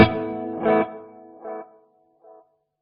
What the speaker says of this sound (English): Which is very reminiscent of an old tape echo.